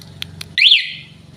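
A Rusi Macho 150 motorcycle alarm gives a single bright electronic chirp as it locks. The chirp is loud and close, rises sharply and then fades over about half a second above a low steady background hum.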